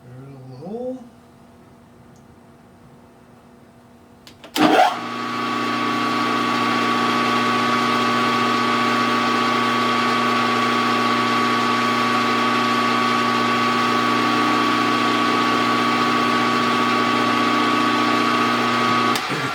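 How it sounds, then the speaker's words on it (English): A short voice, then a power drill abruptly spins up and keeps running with a steady, high motor whine as it bores a hole through a small lathe's feed screw handle. "Drill the hole."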